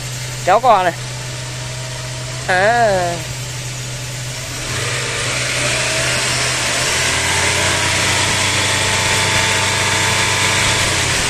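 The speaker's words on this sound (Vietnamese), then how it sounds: "em chạy tua cao như thế mà máy không hề rung một tí nào luôn" A diesel Ford Everest engine revs up and holds at high RPM as a steady, loud broadband roar, after someone speaks briefly over the idle.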